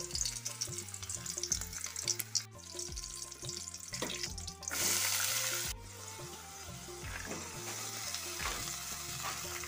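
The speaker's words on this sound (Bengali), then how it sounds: "আগে হচ্ছে কলার থোরটা ভাজা করে নেব।" Banana stem fries with garlic and dried chili in a pan, a loud continuous sizzle with stirring and scraping, a burst of hissing partway through, and a low rhythmic musical tone running underneath.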